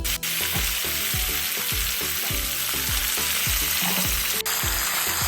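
Tomatoes fry in a hot pan over a fairly high flame, giving a loud, steady sizzle with a regular series of scraping stirs throughout, and no voices.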